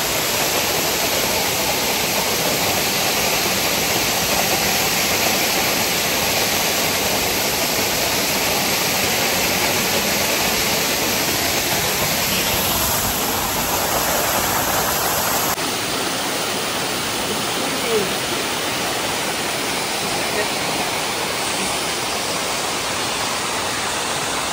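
Arbi Falls near Udupi roars continuously, a dense, loud wall of rushing, crashing water heard close up for the whole stretch with no pauses.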